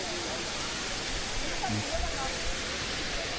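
The steady, dense rush of a waterfall at Tat Kaew Mongkhon near Luang Prabang fills the air continuously, a broad even roar with faint voices barely surfacing beneath it.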